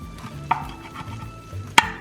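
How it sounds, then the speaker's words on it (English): A spatula cutting through a baked upside-down pizza casserole in its dish, two sharp scraping clinks against the pan over a soft background rumble. "So I'm going to just use my spatula here and cut it."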